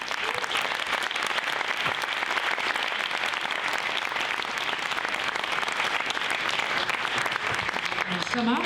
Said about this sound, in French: Aussi, merci d'applaudir la journaliste Caroline Vier.